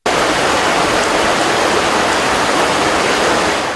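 Heavy rain pours down during flooding in Guelmim, southern Morocco, a dense, steady, loud hiss of falling water that fills the whole short stretch without a break and with no voices.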